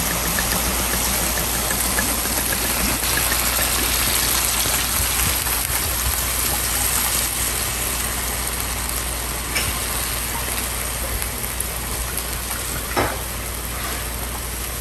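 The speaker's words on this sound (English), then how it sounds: "I'm going to deglaze the pan with some red wine" Red wine hits a hot pan of onions, bacon and quartered mushrooms, giving a steady, close hiss and sizzle that holds for many seconds with a few faint clinks and no talking.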